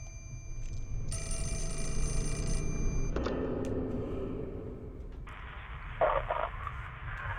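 A telephone bell rings loudly and steadily in bursts, with a second ringing tone and other sounds taking over partway through, no talking.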